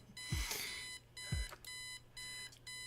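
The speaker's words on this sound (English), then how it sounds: "Eileen's obnoxious alarm clock." An obnoxious alarm clock in the video game Kathy Rain rings in repeated electronic bursts, each about a second long with brief gaps between them, loud and close, while low thuds drop beneath the first two bursts.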